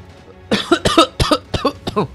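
A man coughs hard about six times in quick succession during a live commentary on a multiplayer online game. The coughs are close, loud and choppy.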